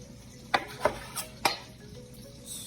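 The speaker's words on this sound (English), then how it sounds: "Scrape any little bits that are left behind." A utensil scraping leftover bits of filleted Meyer lemon, heard as several sharp, close scrapes and taps at an irregular pace against a quiet kitchen background.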